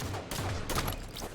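A burst of rapid gunfire from a video game, several sharp shots packed into a short, loud, dense volley.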